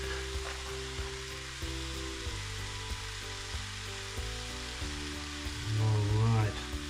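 Egg fried rice sizzles in a hot pan as a spatula breaks up and stirs the grains, a steady frying hiss broken by regular scraping knocks, with a brief hum near the end.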